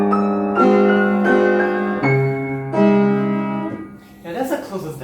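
Solo piano improvisation with sustained chords and a melody line moving through several phrases, played close and fairly loud, with a busier run of notes near the end and no talking.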